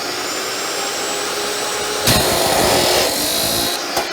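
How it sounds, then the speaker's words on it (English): An abrasive saw cuts steel in a welding shop, giving a loud, continuous grinding whine that swells and grows harsher halfway through, then ends with a brief clank. "an abrasive saw"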